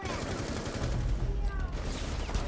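A sniper gunshot in a video game lands amid a dense, loud wash of game noise, with sustained roaring gunfire and effects filling the short stretch.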